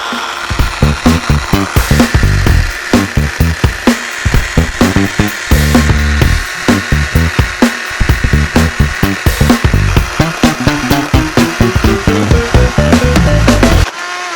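A chainsaw revs and bites into wood close by, its engine surging in fast uneven pulses, loud and continuous with no voices.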